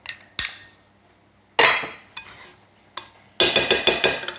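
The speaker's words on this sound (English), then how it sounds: "I'm going to give it a little bit of a whisk" A whisk works thick chocolate, beetroot and ginger cake batter made with flax eggs, giving bright metallic clinks and scrapes against the bowl in separate bursts, then a quick run of strokes at the end.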